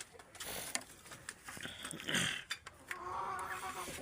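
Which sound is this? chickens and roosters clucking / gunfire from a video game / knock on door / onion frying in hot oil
chickens and roosters clucking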